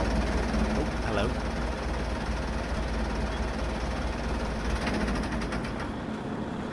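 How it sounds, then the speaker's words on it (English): Tractor engine in the Farming Simulator 22 video game, a loud steady drone with low rumble running through the whole stretch, close and continuous. "That tractor is very loud as well."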